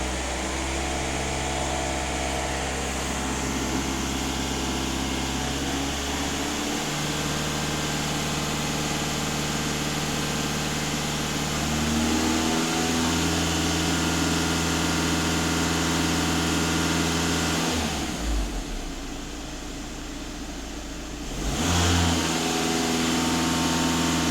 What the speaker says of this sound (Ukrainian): Автомобіль автоматично підіймає оберти.